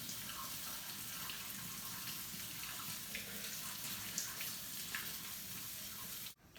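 Mushrooms being washed under a running kitchen tap, a steady broadband splash of water that holds even throughout and cuts off abruptly near the end.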